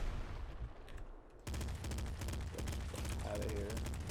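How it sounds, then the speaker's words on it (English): A corpse explosion in the video game Nuclear Throne hits as a sudden loud burst, followed by a dense run of rapid, crackling gunfire-like blasts. "Now that was a corpse explosion."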